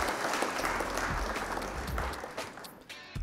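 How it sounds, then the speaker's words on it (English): Round of applause after a live card game match, a quiet wash of clapping lasting a few seconds, fairly faint and steady, with a couple of sharper knocks near the end. "Round of applause for Lillian"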